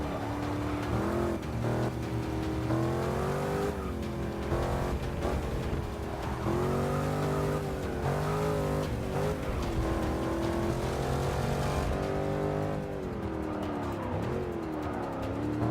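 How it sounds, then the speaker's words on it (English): Race car engine from Forza Motorsport 6 drones steadily with rising and falling revs, accompanied by repeated tire squeals through corners, loud and continuous throughout. "they do muffle the sounds of the engine, as you can probably hear, and all the tires squeal"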